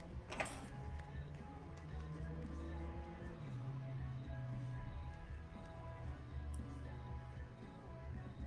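A sewing machine top stitching fabric, a quiet steady mechanical ticking and whirring at close range, with a brief sharp click near the start.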